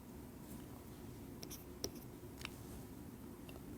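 Chalk or marker strokes on a board during a physics lecture, faint scratchy writing sounds with a few sharper taps over a steady room hum.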